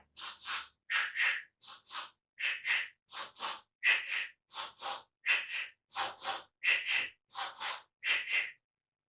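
Repeated rhythmic breathing in pairs: double sharp nasal sniffs alternating with double breathy mouth exhales, close up and steady for about a dozen breaths.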